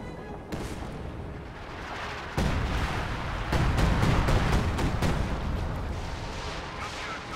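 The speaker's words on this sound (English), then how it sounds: "Time on target artillery dropped right there." Artillery barrage in a WWII strategy video game, a rolling run of heavy booms and bursts that grows louder partway through and then keeps thudding steadily, with no talk over it.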